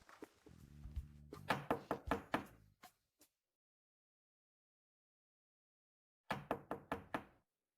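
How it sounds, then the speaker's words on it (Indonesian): Knocks on a door come in two bursts: a quick series of about eight sharp raps, a pause of several seconds, then five more, crisp and close in a quiet room. "Ada yang mengetuk pintu."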